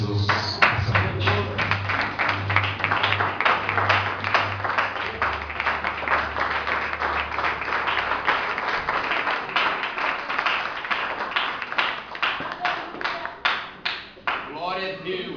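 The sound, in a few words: congregation applauding in church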